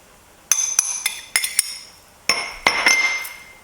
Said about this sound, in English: and in goes the celery, and the carrots